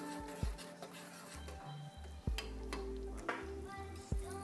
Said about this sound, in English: When these bubbles start going, your sauce is pretty much ready.